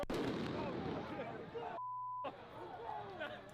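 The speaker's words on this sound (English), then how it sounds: "he got stunned by a flashbang" A flashbang grenade going off in a video game, a loud blast and crackling roar that cuts abruptly to a steady high ringing tone before the din returns.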